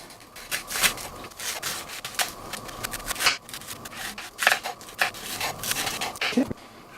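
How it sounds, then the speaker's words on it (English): Kitchen knife taking very thin slices, under an eighth of an inch, from a vegetable for a hearty potato salad, giving quiet, irregular crisp cuts and board taps close by, with no talking. "So I'm thin cutting these pieces."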